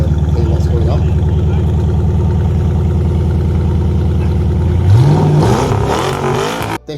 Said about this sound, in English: I'm going to give you a bit of rev so you can hear what's going on.